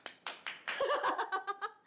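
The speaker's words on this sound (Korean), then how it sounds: "용기의 박수" A handful of sharp hand claps at a boozy Philippine drinking get-together, the first few separate and distinct, then merging under laughter and lively voices.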